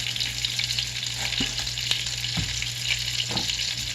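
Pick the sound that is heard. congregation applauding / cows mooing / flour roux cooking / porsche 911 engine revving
flour roux cooking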